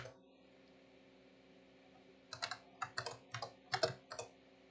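Typing on a computer keyboard: after a quiet stretch with a faint hum, a short burst of soft, close key clicks arrives in quick irregular clusters.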